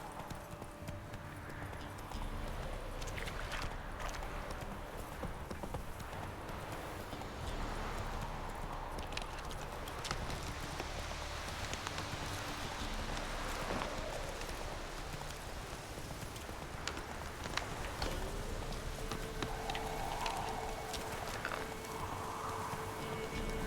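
Roach the horse's hooves clip-clop steadily in Witcher 3 game audio, a continuous rhythmic trot under ambient rain-like rustle, with no talk over it.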